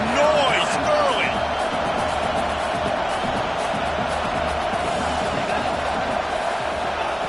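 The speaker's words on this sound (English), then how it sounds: "This crowd bringing the energy and noise early." A packed Texas football stadium crowd roars steadily and loudly across the whole stretch, a dense wash of cheering and yelling with a few whistles near the start.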